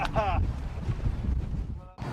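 Strong wind of up to force 11 blasts over a small fishing boat on the River Mersey, a heavy, buffeting roar on the microphone that runs throughout, with brief voice fragments at the start and end.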